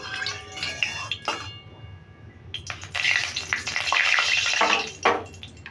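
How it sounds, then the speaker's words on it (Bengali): Smoking-hot oil in a pan spread around with a metal spatula, bursts of crackling sizzle and scraping that come and go, close by, with brief running-water sounds early on. "এবার তেলটাকে আমি খুন্তি করে ছড়িয়ে নিচ্ছি।"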